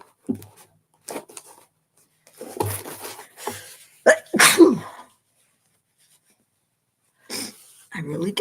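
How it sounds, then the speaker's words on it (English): Quiet breathy sounds lead up to one sharp, loud sneeze in the middle, followed by silence and then a brief voice. "Hang on, I think I have to sneeze."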